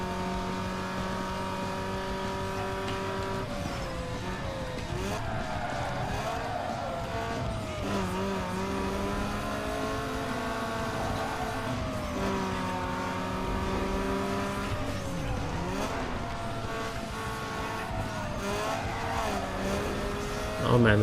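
Racing car engine in Need for Speed Underground 2 revs steadily through corners, with tires squealing as the car slides toward a spin, and a voice talks over the continuous drone.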